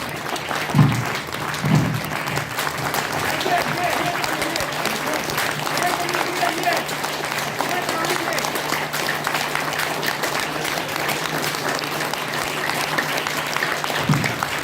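Sustained applause from a large crowd at the start of a talk fills the whole stretch, with a few louder bursts near the start and a voice briefly heard in Hindi.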